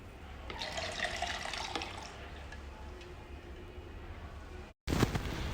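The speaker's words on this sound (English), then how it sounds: "now we inject the water" Water is filled into the tank of a cryolipolysis fat-freezing machine, a soft, steady trickling and splashing that runs on at low level with a brief cut near the end.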